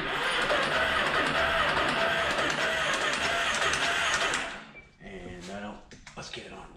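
The engine of a 2009 Yamaha Raptor 350 ATV cranks over with a loud, fast mechanical whirring and ticking for about four seconds, then stops, leaving quieter rustling and handling noises while a person talks.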